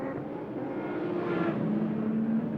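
Volkswagen New Beetle race cars in a Montreal race drone past with steady, humming engines that swell and shift pitch as they go by, a continuous mechanical roar at moderate distance.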